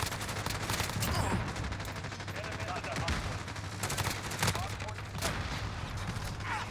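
Rapid bursts of automatic gunfire from a Grau assault rifle in a first-person shooter game, dense sharp cracks repeating steadily throughout, loud and close with a player occasionally talking over them.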